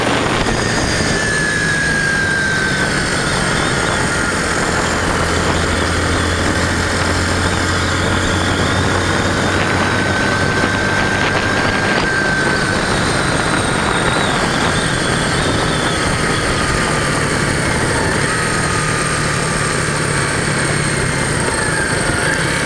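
Yamaha SR250 motorcycle engine running steadily while riding, a loud continuous drone mixed with heavy wind rush and a gradually shifting engine pitch.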